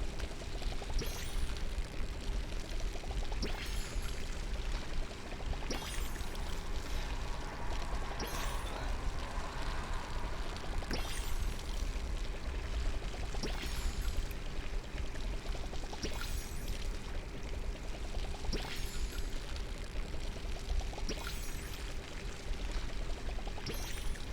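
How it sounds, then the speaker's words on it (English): Crops are watered in the cozy farming video game Palia, giving a steady, continuous pouring and streaming water sound throughout, with soft periodic clicks and no talking. "now the tedious task of watering everything"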